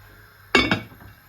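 A lid clinks down onto a pot of simmering homemade Tamil fish curry, one bright metallic clink followed quickly by a second lighter tap, close by.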